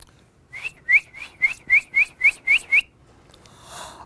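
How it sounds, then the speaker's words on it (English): A bright, evenly spaced series of about nine short rising whistled chirps, like a small bird calling, close and clear against a quiet background. ""I hope my nest won't fall," chirped Mama Bird"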